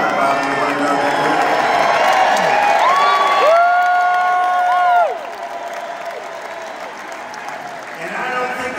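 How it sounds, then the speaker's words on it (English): Large rally crowd in Glendale, Arizona applauding loudly and continuously, with whoops, cheers and whistles rising over the dense clapping, then easing slightly toward the end. "I don't think I've ever introduced anyone that got applause like he just got."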